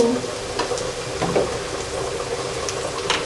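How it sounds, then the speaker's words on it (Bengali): Browned onions fry in a pan for chicken curry, a low steady crackle with faint stirring scrapes and light bubbling, no talk. "আমাদের পেঁয়াজ বাদামি করে ভেজে নেওয়া হয়ে গেছে।"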